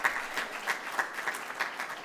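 Brief, moderate applause from an audience at a 2011 family business awards event, welcoming a pregnant speaker; light scattered claps with a few distinct hand strikes standing out.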